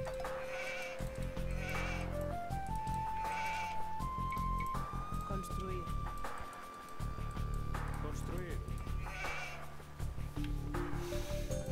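Sheep bleat repeatedly in the video game Age of Empires II, short wavering calls set against a background of tonal game music.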